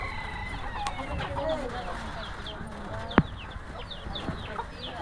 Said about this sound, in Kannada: ತುಂಬ ಕೋಳಿ ಇದೆ, ಇನ್ನೂ ಕೋಳಿ ಇದೆ ಇವರ ಮನೆಯಲ್ಲಿ